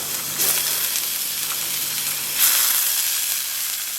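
Shallots sizzle and hiss steadily in hot oil for a Padang-style chicken turmeric-coconut curry, with a close, continuous frying crackle that swells a little about halfway through.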